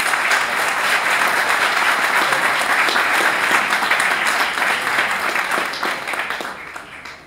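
Applause from a conference audience welcoming a speaker, a full, dense roar of clapping that holds steady for several seconds before gradually thinning and fading out.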